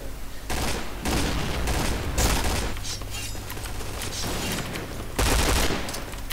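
Rapid bursts of video game gunfire from the shooter game Point Blank crackle in repeated volleys, loud and close, with short gaps between the salvos.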